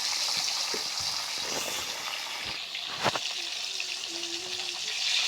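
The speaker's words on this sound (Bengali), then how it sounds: "মাছগুলো আমরা ভাজা নেওয়ার জন্য কড়াই তেল গরম হয়ে গেছে মাছগুলো দিয়ে বসি সুন্দর করে লাল লাল করে ভাজা নেব আমরা মাছগুলো" Fish frying in hot oil in a wok makes a loud continuous sizzle up close, broken by a few scraping and clattering stirs.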